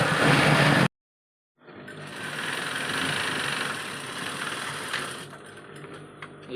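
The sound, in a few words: sewing machine stitching the side seams of a shirt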